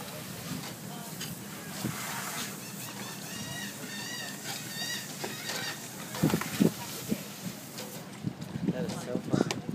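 Several birds call repeatedly with honking, goose-like cries while hunting fish over water, the calls overlapping at mid distance as people talk nearby.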